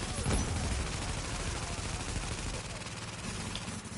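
Sustained gunfire from a lower-ranked gun in The Division 2 shooter game, a dense continuous crackle of rapid shots running through the whole stretch, fairly loud, with a voice faintly underneath.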